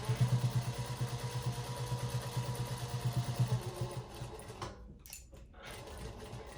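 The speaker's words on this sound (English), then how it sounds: "I'm just going to fold it under and just hit it with a straight stitch there and a straight stitch here." A sewing machine runs a straight stitch to attach a pocket onto a hoodie, giving a loud, close, rapid rhythmic whirring for about four seconds before it slows and stops.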